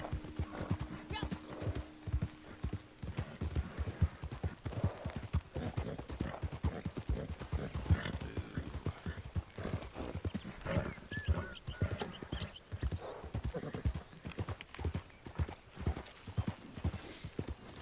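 Steady clip-clop of horse hooves trotting in the video game Red Dead Redemption 2 Online, with a horse whinnying partway through and brief talk over the busy, continuous hoofbeats.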